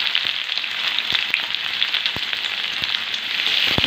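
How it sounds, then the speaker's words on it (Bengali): Onion frying in hot oil in a pan for chicken kosha gives a close, steady sizzle with scattered small pops and crackles, continuous and alone without speech. "আমি কিছুটা পেঁয়াজ রেখেছিলাম, পেঁয়াজটা দিয়ে দেবো।"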